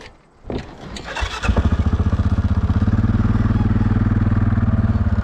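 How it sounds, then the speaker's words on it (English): An ATV engine starts with a few clattering bursts, then settles into a steady, loud, pulsing motor drone as the machine rides along a freshly cut trail on land being cleared; no voices. "we're gonna ride the ATV back to the end of the property"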